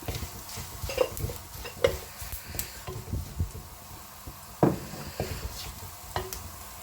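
Chili powder being stirred into a raw mango fish curry in a pan, soft scraping strokes and occasional spoon taps over a quiet simmering sizzle, with one sharper knock near the middle.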